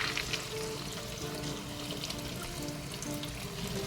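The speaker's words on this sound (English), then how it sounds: "Once you get done rinsing your pumpkin seeds," Tap water runs steadily into a bowl as pumpkin seeds are rinsed, a continuous close splashing wash with no speech.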